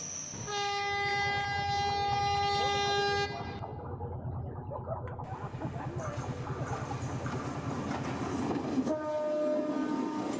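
A train pulls into Kandy railway station, its loud sustained horn sounding for about three seconds over the rumble and clatter of rolling wagons, then the horn blasts again briefly near the end.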